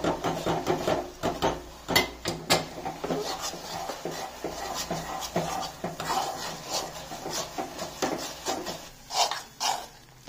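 Roti churma being mixed into cooked jaggery in a pan, with a spoon scraping and clinking steadily against the metal and a gritty rubbing stir, close and fairly loud.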